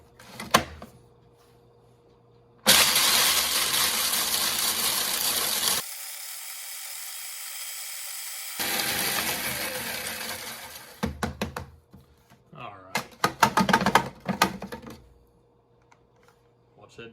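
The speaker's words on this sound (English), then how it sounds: "So we'll grind these up, see what they look like." Dried smoked jalapeños are ground into a powder in an electric grinder, which runs in loud, steady whirring bursts, stops, then starts again, followed by rattling and tapping as the jar is handled.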